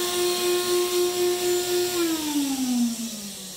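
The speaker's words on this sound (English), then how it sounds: "when I want to turn the vacuum on, I just flip the switch, and it pulls the um, it pulls the sheet down really tight." Vacuum hold-down motors on a ShopBot PRSalpha CNC router table hum with a steady pulsing drone, then wind down in falling pitch, close and without talk.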